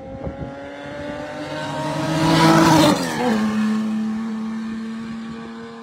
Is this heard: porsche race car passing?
yes